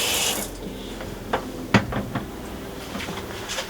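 Water runs from a shower fixture in a Winnebago View / Navion RV during de-winterizing: a steady close rush of flow, broken by a few sharp clicks and knocks from the fixture, with no talking.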